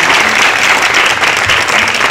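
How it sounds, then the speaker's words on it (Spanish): A live audience gives sustained, dense applause for an artist at an exhibition opening in a cultural centre. The clapping is loud, close and steady throughout. "Así que un aplauso a Manuel y le cedo la palabra."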